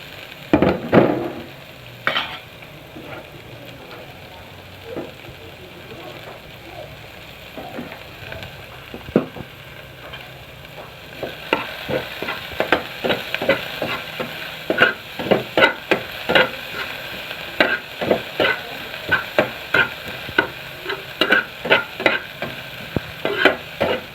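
Chili, garlic and onion frying in a pan at home, a soft steady sizzle broken by quick sharp clacks of a utensil stirring and scraping, sparse at first and then busy and rhythmic, close up with no talking.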